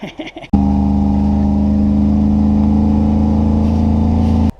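A 1968 Buick Skylark Custom, abandoned since the 1980s, runs with a loud, steady engine drone that begins abruptly after a brief shuffle of noise and holds evenly until it cuts off.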